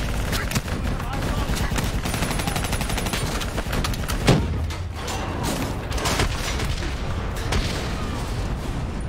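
Sustained gunfire rattles in a Call of Duty Black Ops 3 battle as shooters aim at a VTOL aircraft, dense machine-gun bursts and booms running nonstop, loud and close.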